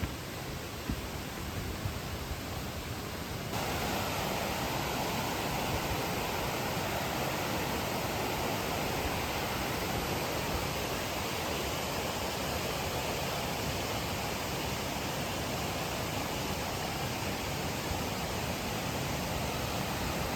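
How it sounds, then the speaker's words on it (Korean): Strong water current and waterfall in a mountain valley, a dense steady roar of rushing water filling the whole stretch, close and constant with no pauses. "여기는 폭포도 있나봐. 물살 세다."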